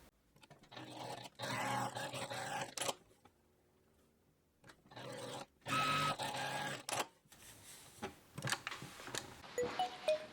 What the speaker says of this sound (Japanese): カフスの両端を縫います。